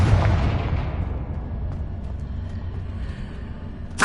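In the Hogwarts Legacy video game, a Confringo explosive spell lands as a loud, deep blast that rumbles and slowly decays over several seconds, with a brief sharp crack at the very end.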